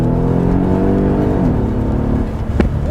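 A Mercedes E63 AMG in comfort mode accelerates with a loud, close engine note rising through the revs, dropping at a gear change and climbing again, with a brief sharp sound near the end.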